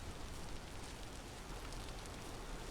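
Steady rain falls in the video game Vintage Story, a dense, even hiss of drops continuing unbroken from start to finish at a faint, distant level with no voices.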